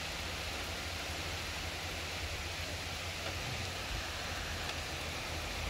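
Steady, dense rain hisses without a break around a parked Mitsubishi Pajero on a slippery hill route, a constant, close wash of sound with no voices.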